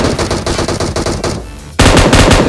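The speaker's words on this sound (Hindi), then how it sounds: "आगे जाके मैं एक बंदे को फायर भी करता हूँ" Rapid automatic gunfire from a shooting video game, two close bursts of fast repeated shots with a brief lull between them, the second burst louder, with no voices.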